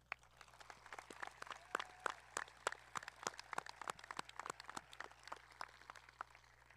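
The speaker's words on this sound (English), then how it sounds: "a round of applause for all of those that were named" An audience applauds at a 2022 high school graduation ceremony in Dansville, with sharp individual claps from a thin crowd, quiet and somewhat distant, over a low steady hum.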